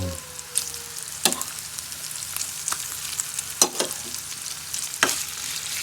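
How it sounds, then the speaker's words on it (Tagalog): Ham sautéing in a pan, a soft continuous sizzle broken by several sharp scraping stirs of the utensil against the pan, close and fairly quiet with no voices. "Ngayon, gisa-gisa muna yung ham."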